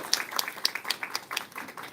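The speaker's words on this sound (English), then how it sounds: "Please big applause for 2 of our speakers today" Scattered applause for two guest speakers at an academic general lecture: a brief patter of separate hand claps, moderately close and fairly light, with no voices over it.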